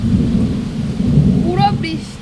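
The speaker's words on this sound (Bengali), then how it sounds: "দেখা যায় তবে বৃষ্টি পড়ছে" Heavy rain pours during a thunderstorm, with a continuous loud roar and deep rumbling thunder, and a voice is briefly heard near the end.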